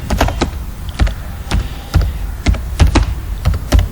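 Keys on a computer keyboard clack in short irregular bursts while text is entered into an Excel sheet, the taps close and crisp with brief pauses between clusters.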